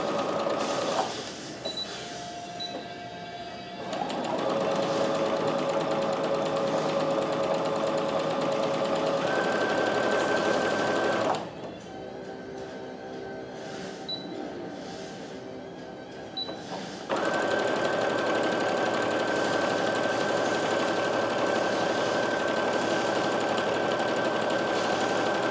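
A 2015 Brother LB6810 sewing and embroidery machine stitches with a fast, even mechanical whir. It runs in long stretches, drops to a quieter lull partway through, then resumes at full speed.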